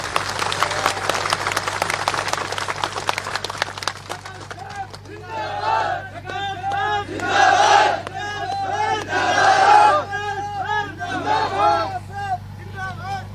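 A political rally crowd in Jodhpur breaks into applause, dense clapping at first, then loud cheering and shouting swelling in bursts, all close and vigorous.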